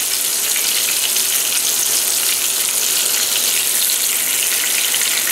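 Chicken fried steak sizzles in hot oil in a pan, a loud, steady, close hiss of frying with no pauses or talking.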